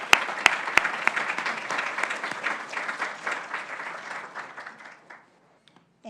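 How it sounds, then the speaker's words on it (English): An audience at a faculty awards and promotion celebration applauds an award recipient, with steady dense clapping and a few sharp claps at the start, tapering off to near silence. "so we can give her a round of applause"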